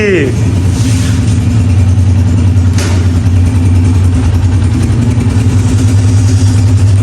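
A motorcycle engine idles and runs steadily up close, loud and continuous with a low throbbing note and occasional light revving.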